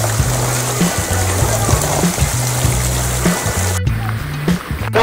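A fast-flowing river rushes loudly and continuously at close range, with a broad watery roar, and a low steady hum runs beneath it.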